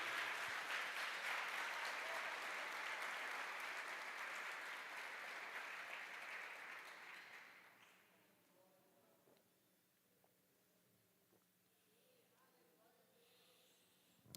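Church congregation applauding the Lord, loud broadband clapping for about eight seconds, then fading into a quiet room with faint scattered sounds.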